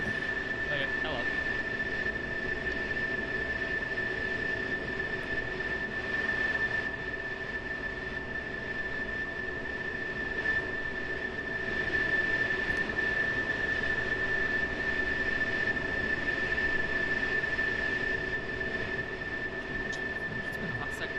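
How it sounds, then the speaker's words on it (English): A jet aircraft sits right beside the player in the DCS flight simulator game, giving a steady, loud turbine roar with a constant high whine that runs unbroken through the whole stretch. "it's because there's a jet right next to me"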